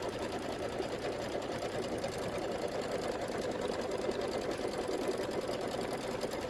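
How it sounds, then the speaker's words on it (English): A sewing machine stitches a tack-down line through batting for a quilted pillow block, a steady, continuous mechanical whir with rapid needle rhythm running close and alone throughout. "I'm stitching the tack down for the batting"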